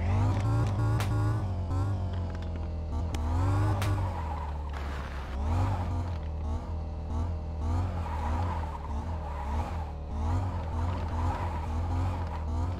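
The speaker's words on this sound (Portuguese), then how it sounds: "Eu tô caladinho pra ver se eu consigo acertar um drift, velho" A car in the mobile game Car Parking Multiplayer slides through drifts, its engine revving and tires squealing in repeated waves over a steady low engine drone, with no one speaking.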